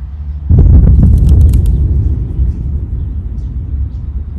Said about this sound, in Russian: Ну, наверное, больше на гром похоже, где-то далеко.